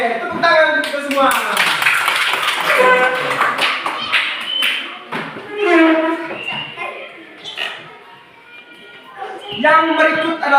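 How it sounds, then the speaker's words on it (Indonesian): Children in a classroom burst into a round of clapping mixed with speech, quick sharp claps and taps scattered among young voices, close and fairly loud before tapering off. "Tepuk tangan untuk kita semua."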